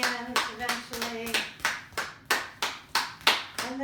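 Hands clap in a steady, even rhythm, about a dozen crisp claps close by during a gentle healing yoga routine, each one sharp and then quickly fading.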